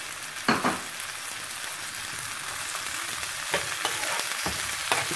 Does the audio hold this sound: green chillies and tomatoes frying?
yes